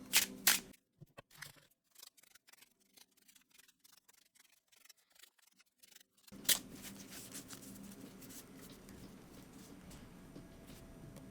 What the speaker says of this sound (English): go ahead and give the deck a really good shuffle